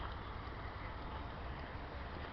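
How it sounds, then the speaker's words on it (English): Steady wind gusting through trees on a breezy day, a continuous broadband rush with low rumble, moderately loud and unbroken, with no voices. "There we have the trees blowing in the wind,"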